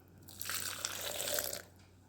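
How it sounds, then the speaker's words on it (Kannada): Water is poured into a mixer jar holding ground spices and grated coconut, a short close splashing pour lasting about a second with no voices. "ಇದಕ್ಕೀಗ ಸ್ವಲ್ಪ ನೀರು ಹಾಕಿಕೊಳ್ತಾ ಇದ್ದೇನೆ"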